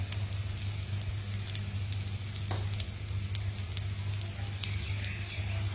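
Spices sizzle in a pan of oil during the cooking of boal fish kalia, a soft steady crackle with occasional sharper pops, fairly quiet and continuous, no talking over it.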